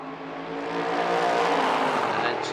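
A Porsche Cayman touring race car in the Baltic Touring Car Championship at the DeWALT Grand Prix 2023 roars past on track, its engine note swelling loud and close before easing off.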